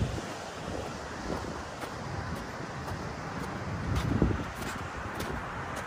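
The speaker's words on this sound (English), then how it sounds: "Guys, that water is really flowing over here." Heavy water rushing into Big Bear Lake, California, a steady broadband roar of flowing water mixed with wind buffeting the microphone, continuous and close, swelling briefly near the end.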